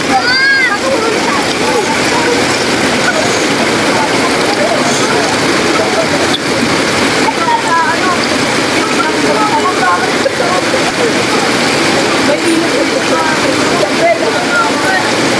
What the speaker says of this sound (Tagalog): Ay, malakas po yung current dyan ng tubig ha.